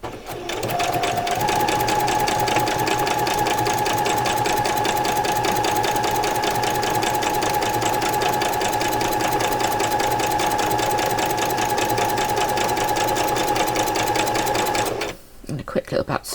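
A sewing machine runs continuously, back stitching and sewing straight along doll coat fabric, a loud, even mechanical whir with rapid needle rhythm for about fifteen seconds before stopping abruptly, followed by a few quiet clicks.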